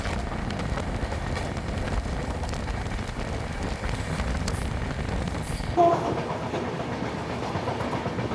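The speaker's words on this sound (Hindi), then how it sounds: "130 किलोमीटर पर आवर की मैक्सिमम परमिसिबल स्पीड पे ट्रेन अपनी चल रही है।" The Mumbai–Ahmedabad Shatabdi Express runs at 130 km/h, heard from inside as a steady rumbling roar with rhythmic clickety-clack of wheels over rails, and a brief squeal near the end.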